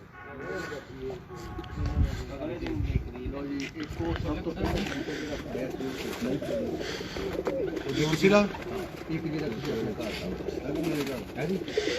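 Pigeons coo steadily and close by on a rooftop in Gujranwala, a low throaty burbling that runs throughout, with a voice talking over it.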